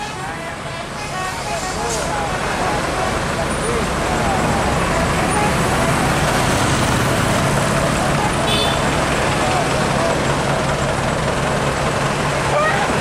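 Telolet horns of a tourist bus and a dump truck sound melodic, warbling toots over busy roadside traffic in the morning, with voices of people nearby mixed in.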